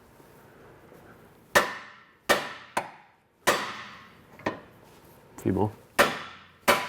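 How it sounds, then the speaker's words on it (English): A small or medium hammer strikes a car's steering arm to free the tapered joint: about eight sharp, ringing metallic knocks, spaced irregularly and close by, with a brief spoken remark between them. "just grab small or medium hammer and just hit the actual steering arm itself"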